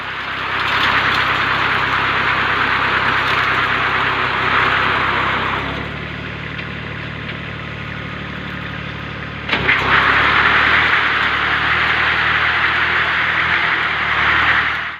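Engine of a Kubota 24 hp sugarcane leaf-stripping vehicle running steadily nearby, with a louder broadband roar that drops to a lower idle midway and then surges back up.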